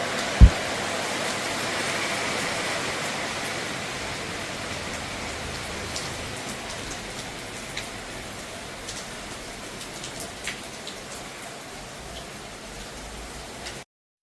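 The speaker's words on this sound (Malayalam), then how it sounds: "പുറത്ത് നല്ല മഴ പെയ്യണുണ്ട്" Heavy rain falling outside a home during the morning, a steady hiss of drops on surfaces that holds constant throughout, with a sharp knock near the start and a few faint ticks later.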